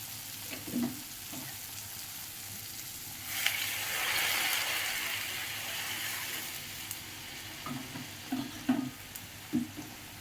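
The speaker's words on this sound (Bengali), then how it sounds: "এবার আমি গরম জল দিয়ে দেবো" Hot water poured into a frying pan of soya chunk and potato curry, a hissing rush swelling after light stirring clicks, then settling back to soft sizzling and scraping.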